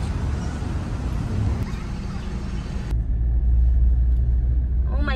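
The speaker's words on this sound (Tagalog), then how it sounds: "Traffic." Road traffic is heard from inside a car in holiday-rush congestion: a loud steady low rumble of engines and tyres, with the high hiss dropping away midway as the cabin quiets, and brief voices nearby.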